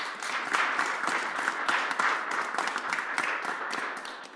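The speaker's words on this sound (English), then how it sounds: "You can clap for her." An audience at a community Kwanzaa festival in Springfield applauds, giving steady, dense clapping throughout at moderate distance with no clear talking over it.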